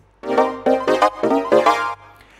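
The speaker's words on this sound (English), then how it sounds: "For example, this little chord progression here." A bright synthesizer, Ableton Operator with a heavily moving auto filter, plays a short progression of sustained chords, each swelling in and cutting off in a steady rhythm, with no voices.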